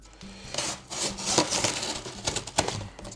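Utility knife slicing into a cardboard box, a close series of scraping, rasping cuts in uneven bursts with short pauses between strokes.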